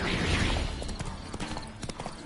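Horse hooves clip-clopping in The Witcher 3 as Geralt's horse Roach moves along, a quick uneven trot of soft thuds blended with game ambience and a faint rustle.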